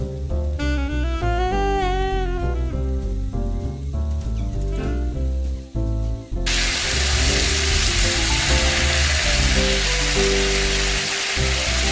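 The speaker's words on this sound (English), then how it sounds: "Fry the meat quickly like that will make the flavor can get inside the meat." Pork belly frying quickly in a pan, a loud steady sizzle that bursts in partway through over background music and continues strongly to the end.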